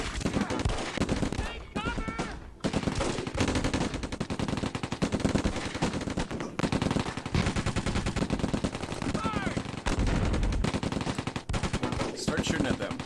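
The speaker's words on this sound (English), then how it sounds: "Shooting at them." Dense automatic and rifle fire from the World War II strategy game Close Combat, Hill 192 at St. Lo, crackling in rapid bursts almost nonstop at high loudness, with brief lulls and a voice talking underneath at times.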